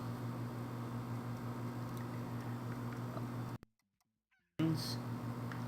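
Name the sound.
chickens clucking in the video game Slime Rancher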